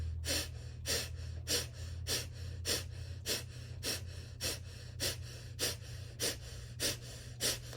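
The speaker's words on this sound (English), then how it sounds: "Feel your abdomen jumping as you're breathing." Rapid rhythmic breathwork exercise, a steady series of sharp, forceful breaths about two per second, close and alone over a low constant hum.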